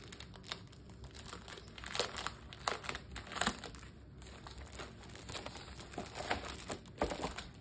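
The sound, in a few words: sheets of paper and dividers being taken out and handled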